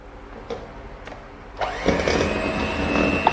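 An electric hand mixer starts up and whirs steadily, beating flour, yeast and water into a starter batter for green tea pukis, after a quiet stretch with faint kitchen clatter.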